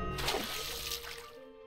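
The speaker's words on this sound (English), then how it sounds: "I find myself engulfed in a large body of violently churning water" Violently churning tsunami water in the video game An Octave Higher, a dense, close, continuous wash of splashing and roiling surge that stays loud throughout without a break.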